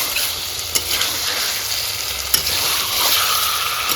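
Chicken with mango sautés over medium-high heat in a pan, producing a loud, even, close sizzle with two sharp utensil knocks and no talking.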